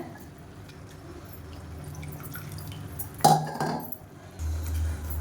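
Tamarind water being poured into frying masala for a plain fish curry, a brief splash and sizzle, followed by a steady hiss of liquid in the hot pan, close and moderately loud.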